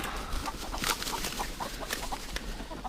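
Broiler chickens on a farm clucking, a cluster of soft, close chattering clucks and short calls repeating over steady low background noise.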